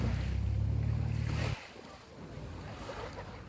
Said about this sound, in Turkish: Burası Antalya Konyaaltı plajı.